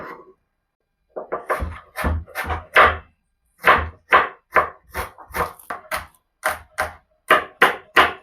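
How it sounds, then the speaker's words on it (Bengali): A knife chops pak choi into thick slices on a board, producing a run of close, crisp knocks in a fairly steady rhythm after a brief pause, with no talk over it. "এরকম ভাবে স্লাইস কেটে নেব মোটা মোটা।"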